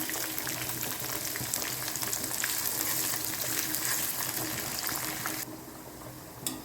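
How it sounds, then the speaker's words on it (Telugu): Small chopped onions fry in a dried-chilli and green-chilli tempering for crab curry, giving a loud, dense, continuous sizzle close up that fades somewhat near the end. "మిరపకాయలు పోపు వేగిన తర్వాత కట్ చేసి పెట్టుకున్న చిన్న ఉల్లిపాయ"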